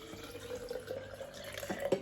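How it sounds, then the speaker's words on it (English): Water poured into a blender of freshly blended blueberries while making homemade pancakes, heard as a faint, soft trickle and splash close by in a quiet kitchen. "I add water to them."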